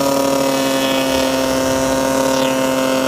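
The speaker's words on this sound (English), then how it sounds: "maybe it's just the sound of the prop" A paramotor propeller with a dent in one blade chops through the air in flight, a loud, steady droning buzz with strong tonal hum held constant throughout, no talk.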